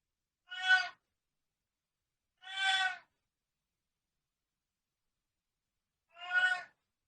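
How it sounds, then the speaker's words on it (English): A very vocal house cat meows three times in the background, two calls close together and a third after a pause, each clear and moderately loud against otherwise silent surroundings. "I apologize if you hear meowing in the background. I have a very vocal cat"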